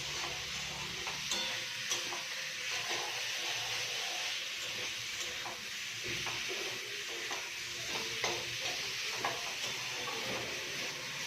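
Masala for fish curry sautéing in a pan, a soft, continuous sizzle with a steady hiss and intermittent scraping stirs and light clicks, heard fairly close with no talking.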